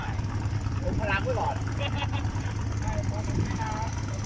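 A constant low boat engine drone hums throughout at the Bang Pakong river mouth while someone talks over it close by.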